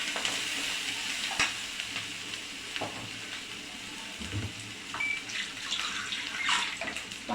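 Water splashing into a hot pan of spices with turmeric and salt, cooking for a Bengali fish-head chorchori, a steady close watery wash with faint sizzle and a few clinks, no talking.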